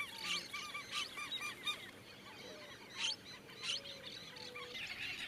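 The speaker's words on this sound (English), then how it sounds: "Here we found white-faced whistling ducks," Several white-faced whistling ducks call in short, high, wheezy whistles, repeated in bursts at moderate distance over a quiet outdoor background at a shallow lake in Serra das Araras, Brazil.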